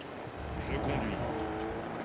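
A car is driven in the video game Warzone, its engine a steady, moderately loud drone for about two seconds, with speech over it.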